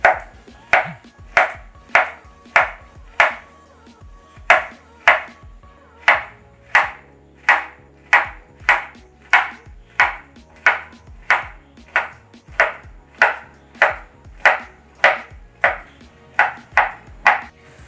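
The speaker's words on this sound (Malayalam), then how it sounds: "പഴത്തിൻ്റെ തൊലിയും ഈ ഞാരൊക്കെ കളഞ്ഞ് ചെറിയ പീസുകളാക്കിയിട്ട്" A steady series of sharp knife chops through banana pieces on a board, evenly paced and close, with a ringing tap on each stroke and no talking.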